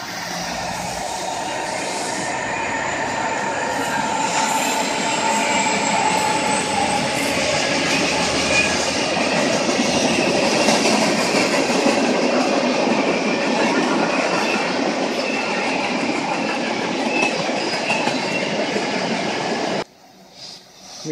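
A freight train rumbles past for a long stretch with steady rolling roar and rattling wheels, loud and close, then cuts off abruptly near the end.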